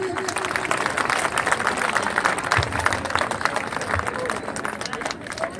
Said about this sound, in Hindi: एक बार जोरदार तालियां सभी।